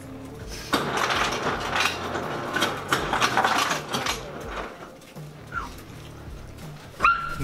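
A dog barks and whimpers in short yips and whines amid clattering dishes and background noise, with several bursts over a few seconds.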